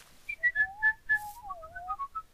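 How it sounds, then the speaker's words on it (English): A person whistles a short wavering tune, a string of clear sliding notes with breathy gaps between them, close and fairly loud with no talking. "I try and whistle, and then you just take over"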